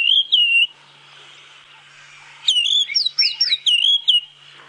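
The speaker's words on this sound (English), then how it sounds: "What a nice little bird. I don't know when I last actually saw a white-browed scrub robin." A white-browed scrub robin sings at sunrise on a safari drive, giving clear, loud whistled phrases: one short burst, a pause with a faint low hum, then a longer run of rising and falling notes close by.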